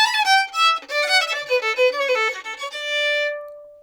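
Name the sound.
fiddle playing a walkup kickoff with upper neighbor note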